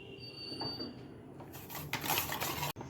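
A metal spoon stirs milk powder into milk inside a steel tiffin bowl, giving scraping, clinking strokes that grow busier and louder toward the end, with no talking.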